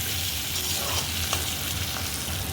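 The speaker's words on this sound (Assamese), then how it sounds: "আকৌ বিলাহী কেইডোখৰ অকণমান ভাজি ল'ম 2-3 মিনিটমান।" Tomato pieces frying in a pan, a dense, even sizzle close by with faint stirring, steady and uninterrupted with no voices.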